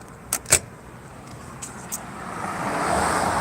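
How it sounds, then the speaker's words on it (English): Road traffic passes a parked car with its window rolled down on a street in historic Irvington, Indianapolis: two sharp clicks, then a vehicle approaches and swells into a steady rising roar, close by, with no talk. "Oops, sorry about the traffic."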